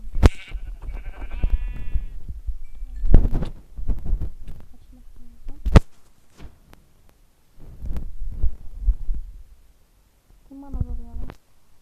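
Sheep bleat in a survival video game: one wavering bleat at the start and another near the end, separated by heavy thumping and other game noises.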